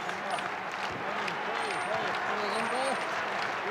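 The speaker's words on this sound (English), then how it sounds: "This crowd getting pumped." A packed arena crowd at a pro wrestling event, steady roaring cheers and applause filling the space throughout, dense and continuous, with a commentator's voice talking over it.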